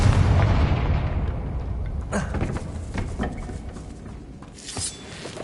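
Confringo blasting spell from the video game Hogwarts Legacy going off, a loud booming burst at the start that trails into crackling debris and smaller pops, with a second flare of noise near the end.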